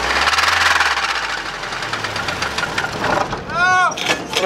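A Honda ATV fitted with concrete cutting wheels revs loudly nearby, its engine rising and falling while excited people shout and talk over it.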